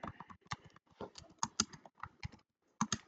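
Keystrokes on a computer keyboard as a listing title is typed, close and crisp, in irregular bursts of quick clicks with short pauses between words.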